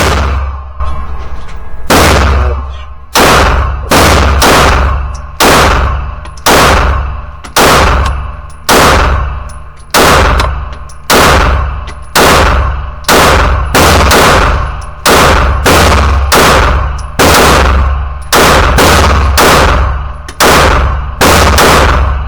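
Rapid strings of loud, sharp pistol shots from a Canik METE SFT handgun at a range, fired in quick bursts with brief gaps, each crack ringing with a metallic edge, no talking over them.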